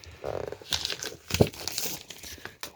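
Plastic packaging of Auxbeam LED fog light bulbs being cut and pulled open by hand, a close, quiet run of crinkling and tearing rustles, irregular and unaccompanied by talk.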